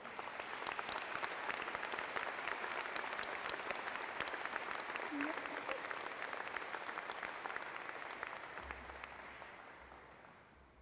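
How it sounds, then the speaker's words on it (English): An audience at a college honors convocation applauds steadily for award recipients, a long, even wash of many hands clapping at some distance. "Let's give those recipients another round of applause."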